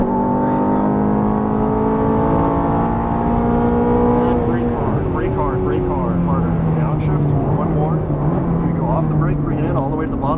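A Ferrari F430 engine revving hard at full throttle on a track, rising harmonic whine climbing through the gears with a shift midway, loud and close, with someone talking over it.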